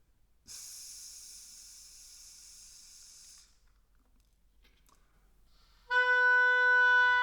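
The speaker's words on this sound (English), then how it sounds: "This should be without movement, it's just an exhale." A steady, airy exhale like a long hissed S, blown without movement through a chosen hole of a wind instrument. It lasts about three seconds and is followed by a clear, sustained pitched note.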